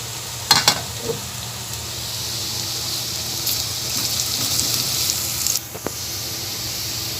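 Onion and meat fry in a pan until golden, giving a steady close sizzle with a few sharp utensil clicks near the start and end.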